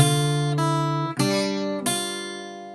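Guitar notes ring out clearly: an open G with D struck, then an F after a short pause, and a third strum near the end, sustained and alone.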